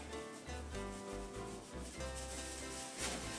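Salt and paprika rubbed into raw chicken pieces by hand, giving a close, steady, moist rubbing and squishing that runs without pause and with no talking.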